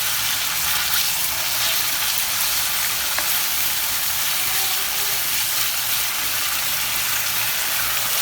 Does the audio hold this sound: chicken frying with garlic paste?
yes